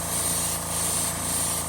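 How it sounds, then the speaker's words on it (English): Paint sprayed at higher pressure onto a fishing lure, a steady continuous hiss of airbrush airflow that holds evenly near and fairly loud for the whole stretch, with no talking. "I do spray this on a little bit higher pressure, and I'll just get it good and wet."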